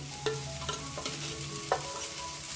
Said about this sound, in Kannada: ಈ ಥರ ನೀಟಾಗಿ ಇದು ಎಣ್ಣೆಯಲ್ಲಿ ಫ್ರೈ ಮಾಡ್ಕೊಳ್ಳೋಣ